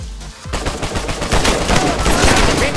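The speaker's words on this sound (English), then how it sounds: "Oh, he got a pistol." Loud pistol gunfire in the game Uncharted 4: a quick string of sharp, close shots that begins abruptly and keeps firing rapidly, with faint voices underneath.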